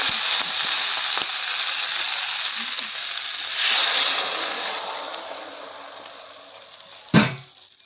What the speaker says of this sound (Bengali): এবং দিয়ে দেবো পরিমাণ মতন জল